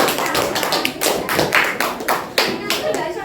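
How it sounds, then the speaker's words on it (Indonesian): A classroom group claps in applause for the Sulawesi group, a dense burst of hand claps lasting a few seconds, close and lively, with a voice speaking briefly over it. "Tepuk tangan untuk kelompok Sulawesi"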